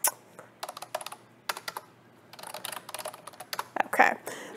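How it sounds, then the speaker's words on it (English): Fingers type on a computer keyboard close up in quick bursts of clicking keys separated by short pauses, with no one talking. "let me type real quick on here."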